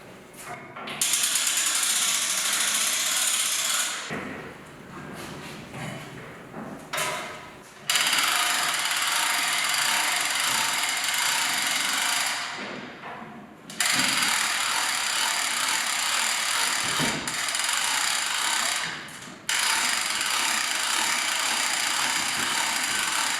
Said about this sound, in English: Just adjust the lift, give it just a partial crank with the winch there, put it in position.